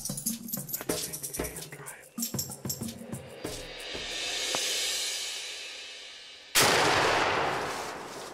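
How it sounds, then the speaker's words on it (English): A single sharp gunshot cracks in the woods during turkey hunting, loud and close, after earlier clicks and rustles, with a long hiss of outdoor noise following the blast. "Crack another shot."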